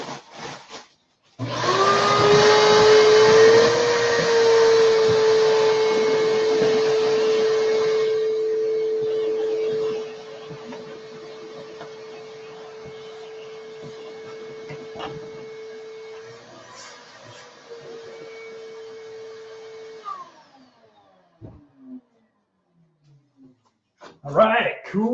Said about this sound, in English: I'm actually gonna vacuum this up really quick.